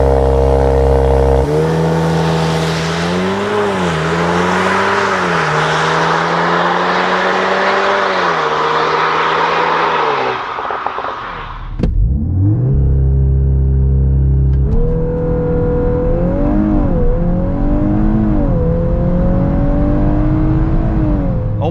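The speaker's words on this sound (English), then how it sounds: "So let's kick it off with a 0 to 100 launch control." A 320 hp VW Golf 8 R launches hard from 0 to 100 km/h on wet tarmac. The engine note climbs loudly through rising revs and falls briefly at a gear change, then pulls hard again. No one speaks.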